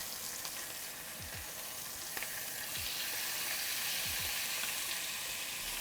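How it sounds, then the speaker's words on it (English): Chicken sears in a hot pan for a Moroccan tagine, giving a constant bright sizzle and crackle with a few soft scraping stirs and taps, close and steady with no talking. "You wanna hear that sizzle as soon as you drop it in the pan."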